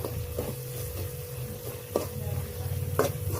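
Sheep head curry with tandoori and chaat masala sizzles in a pan, with three or four distinct scraping strokes of a spoon over the steady frying.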